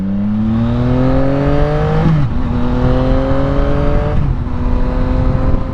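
A Yamaha XSR900 motorcycle pulls hard through the gears, its engine note climbing steadily, dropping at two quick shifts and rising again. Loud and close, with no talking.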